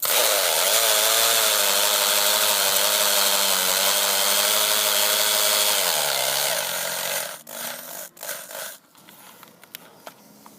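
A hammer drill spins a threaded stud into a drilled hole over a resin vial, with a loud, continuous motor whine whose pitch drops slightly before it winds down. A few sharp clicks and knocks follow.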